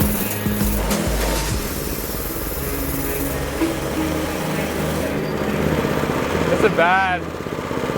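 A homebuilt motor trike's engine spins up its axle, which is badly weakened by a pin, giving a loud steady rumbling whir with a rising mechanical whine near the end; a voice speaks briefly over it.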